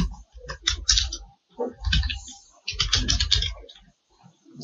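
Typing on a computer keyboard in Microsoft Word, with bursts of clicking keystrokes separated by brief pauses, close and fairly clear with no talking.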